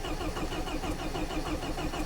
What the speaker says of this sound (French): Ah, le starter il va bien